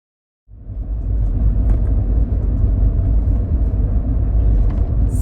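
A 2009 Toyota Prius starts moving and cruises along, its low road rumble rising quickly from silence and then holding a steady, fairly loud interior drone.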